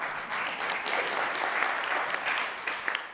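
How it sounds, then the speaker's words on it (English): A crowd applauds steadily, a dense patter of clapping that holds throughout and tapers slightly at the end. "give her a round of applause"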